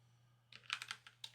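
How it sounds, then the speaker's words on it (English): Short burst of typing on a computer keyboard, about a dozen quick, close keystrokes in an uneven rhythm over a faint steady hum. "I'm gonna simply type them."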